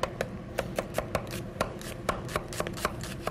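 Knife chopping a red onion on a cutting board, a quick, fairly regular series of crisp close taps, about a dozen strikes in a few seconds, with no talk.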